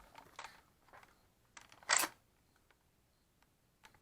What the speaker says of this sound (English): Just insert the mag.